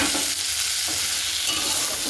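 Chopped tomatoes go into a pan of frying onion and garlic, a loud, steady sizzle with some stirring and no talk.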